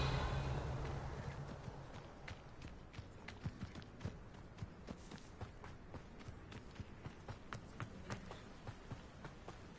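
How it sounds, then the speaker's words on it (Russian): A horse's hooves clip-clop in the Hogwarts video game, a quiet, steady run of light thuds spread across the clip over soft ambient background, with no talk. "О, смотри, лошадка."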